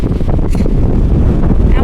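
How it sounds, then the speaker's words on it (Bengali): Strong sea wind at Mandarmani beach buffets the microphone in a loud, continuous roar that drowns out other sound, with a person speaking under the gusts. "আর এখানে একটা বিভৎস হাওয়া দিচ্ছে"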